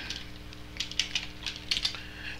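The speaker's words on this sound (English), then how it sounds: "One of the things you could do is that you can type if" A command being typed on a computer keyboard: a short burst of close, light key clicks in an uneven rhythm over a faint background hum.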